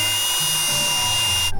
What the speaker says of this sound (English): we gotta grind my crappy weld real quick